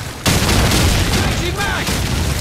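A grenade explosion in the video game Call of Duty 4 during a domination match: a loud boom hits and a dense roar of gunfire and blast noise sustains close by, with voices shouting over it.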